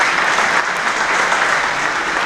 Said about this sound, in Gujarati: તાળીઓથી આપણા ભામાચાઓને બજાવો.